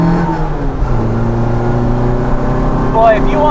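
A genuine 1967 Austin Mini Cooper S with John Aley roll bar and Dunlop R7 tyres cruises at about 70 mph, a steady droning engine and road roar heard from inside the cabin with people talking over it.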